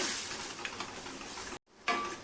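Coconut, cumin and coriander paste fries in hot oil with asafoetida, giving a steady close sizzle with faint stirring scrapes, cut by a brief gap before the sizzle returns.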